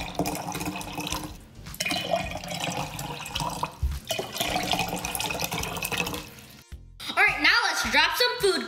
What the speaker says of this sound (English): Now let's put some water.